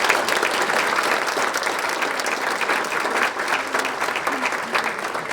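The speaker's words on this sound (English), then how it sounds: "A round of applause for our new members, please." Dense, steady applause fills the room as the audience at the 2026 Piqua Area Chamber annual dinner claps for new chamber members, loud and close throughout without a break.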